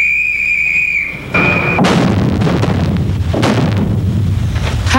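A deep explosives blast in an underground coal mine in southern Santa Catarina, Brazil, erupts after a brief whistle-like tone, followed by sustained rumbling and scattered crackling debris, loud and close.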